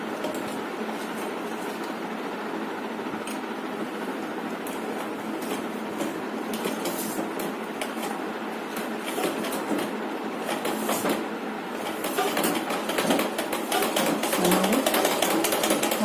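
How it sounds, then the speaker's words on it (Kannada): Sewing machine stitching on a scrap of waste cloth, a continuous close mechanical whir with rapid ticking that grows busier toward the end, with no talk. "ಸೊ ನಮ್ಮ ಮಷಿನ್ ನೋಡಿ ಈಗ ಸ್ಟಿಚಿಂಗ್ ಮಾಡೋದಕ್ಕೆ ರೆಡಿ ಆಗಿದೆ."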